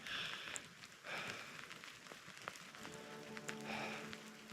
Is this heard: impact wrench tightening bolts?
no